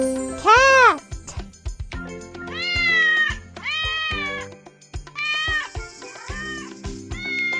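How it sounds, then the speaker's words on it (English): Cartoon cat meowing in a children's jigsaw puzzle app, several bright, drawn-out meows in a row, loud and close, mixed with upbeat app sounds and short cheerful voice prompts. "Cat!"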